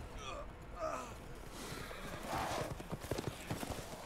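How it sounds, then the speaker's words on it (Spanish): Werewolves riding horses in the Resident Evil Village video game make rapid clip-clopping hooves, quiet and somewhat distant, with a brief whinny and breathy gasps mixed in. "hombres lobos montando a caballo"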